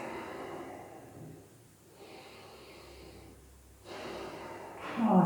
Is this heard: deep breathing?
yes